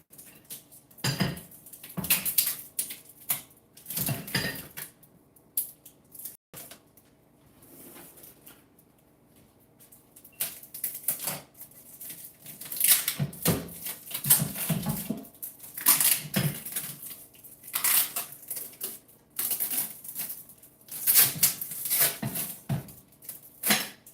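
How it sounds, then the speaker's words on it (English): Packing tape peeled off a package in repeated loud ripping and crackling bursts, close up, with short pauses between pulls and no talking. "I'm going to need to take the tape off first"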